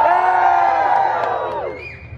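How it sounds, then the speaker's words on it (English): A live audience at a Deadpool show at Disney California Adventure cheers and whoops loudly, a dense crowd roar with sustained voiced shouts that fades down over a couple of seconds. "You can cheer louder, it's fine"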